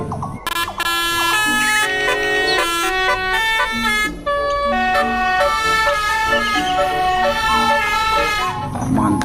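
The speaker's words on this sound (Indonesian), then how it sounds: "bus telolet Basudi" A toy Basudi telolet bus horn plays a loud, continuous melodic tune of layered sustained tones that shift pitch steadily throughout, with no pause between notes.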